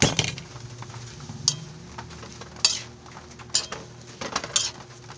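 Sardines and pechay being sautéed in a pan, with a steady background sizzle broken by several sharp clinks of a utensil against the pan, spaced irregularly and close by.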